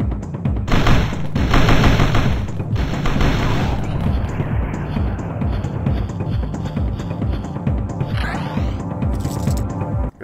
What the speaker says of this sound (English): has a goddamn machine gun